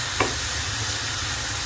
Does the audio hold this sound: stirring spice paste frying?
yes